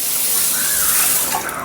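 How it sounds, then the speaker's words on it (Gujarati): Water splashes from a tap into a pot of sugar for syrup, a bright steady pour heard up close and alone. "અને 1 લીટર આપણે પાણી નાખી દઈશું"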